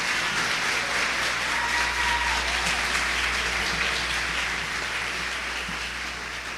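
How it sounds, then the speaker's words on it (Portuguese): A church congregation applauding for Jesus at a service, sustained dense clapping that fills the room at steady loudness throughout, with no voices standing out. "eu gostaria que vocês dessem uma salva de palmas a Jesus pela vida do meu pastor"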